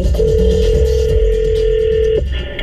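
A telephone line sounds during a radio prank call to a bowling alley, with one loud, steady electronic tone lasting about two seconds over a low hum.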